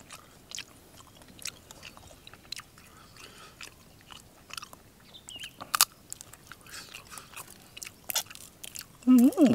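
Crispy forest food baked in banana stalk being bitten and chewed, a series of close, sharp crunches amid quieter chewing, with a voice speaking briefly near the end.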